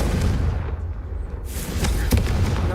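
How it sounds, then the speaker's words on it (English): A Confringo fire spell bursts in the video game Hogwarts Legacy, a loud booming blast at the start followed by a continuous low rumble and a second sharp crack near the end, with no talking. "I think you'll find that a Confringo cast travels a bit farther than that of a spell like Incendio"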